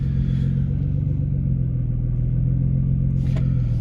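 Salvage Nissan GT-R idling with its engine running, a steady deep rumble and slight clatter, loud and close, no talking.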